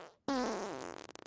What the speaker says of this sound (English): That fart song ended early